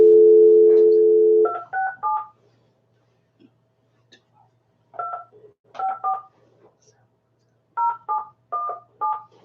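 A phone call being placed: a steady dial tone for about a second and a half, then several bursts of short, clear keypad tones in quick groups separated by pauses, with no talking.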